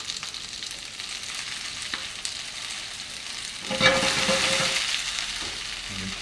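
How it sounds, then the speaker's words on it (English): Spinach being thrown into a hot pan and frying, a soft steady sizzle that swells louder and brighter midway as the leaves hit the oil, with light stirring and no talking. "I'm going to throw a bunch of spinach in here"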